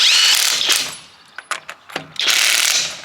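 A cordless 1/2-inch drive impact wrench rated at 800 ft-lbs whirs loudly, breaks into a few short hammering bursts on bolts, then runs again in a sustained, close burst.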